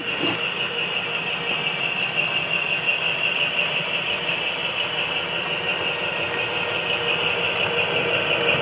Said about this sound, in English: I'll be using Locomotive 100, which is a Paducah rebuilt GP10